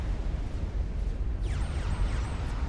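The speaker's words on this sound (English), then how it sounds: "And there's the nuke. It kills off part of his base." A nuclear strike detonates in the strategy game Supreme Commander: Forged Alliance, producing a loud, continuous rumbling roar with layered crackling blasts that stays dense from start to finish.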